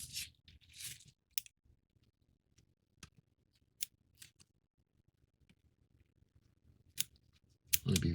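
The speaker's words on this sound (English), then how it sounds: "I'm going to cut the tape." Scissors snip tape on a wooden 1:50 scale Black Pearl model kit, with scattered sharp cuts and crinkles separated by quiet pauses, close and soft, with no talk.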